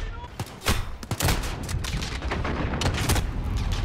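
Gunfire in the video game Modern Warfare campaign: sharp broadband shots cracking in quick irregular bursts over a dense battle backdrop, loud and close, with scattered heavier booms.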